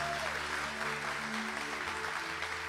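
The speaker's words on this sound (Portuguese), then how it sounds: "Vamos aplaudir Jesus?" Church congregation applauding during a Catholic Mass, a steady dense clapping wash that fills the whole stretch, with low sustained organ-like tones and faint voices underneath.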